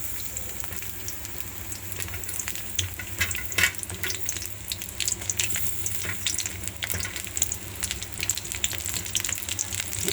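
Onions and garam masala frying in a pan for a home-cooked lunch, a steady close sizzle with occasional scraping and stirring clinks throughout, no voices.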